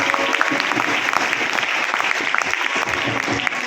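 A seminar audience in Moradabad bursts into loud, sustained applause, dense clapping filling the room steadily from start to finish with no voices rising above it.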